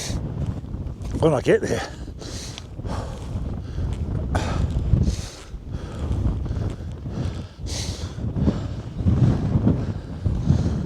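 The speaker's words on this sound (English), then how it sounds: "Oh, where I can shelter from the wind" Strong gusts buffet the microphone on the exposed summit of Cross Fell, roaring in uneven surges and lulls while a person talks over the wind.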